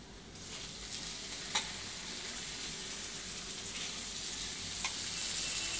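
Sprouted val beans tipped into a pan of frying onion, a steady close hiss of sizzling oil with a couple of sharp stirring clinks against the pan.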